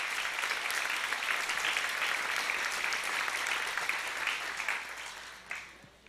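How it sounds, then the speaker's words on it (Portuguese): A church congregation at a celebration service bursts into sustained applause, a dense, even wash of clapping from many people. The clapping holds steady for several seconds, then thins and tapers off, with a few last claps at the end. "Você pode aplaudir ao Senhor?"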